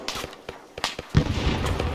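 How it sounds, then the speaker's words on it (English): A frag grenade goes off with a sudden heavy blast that leaves a rumbling tail, following a run of sharp, scattered pops and cracks from nearby gunfire. "Frag where you can see it go off."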